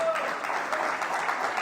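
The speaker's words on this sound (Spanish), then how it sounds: "Démosle un fuerte aplauso a Dios." Church congregation applauding during a Spanish-language sermon, a steady wash of clapping throughout, fairly close and even in level.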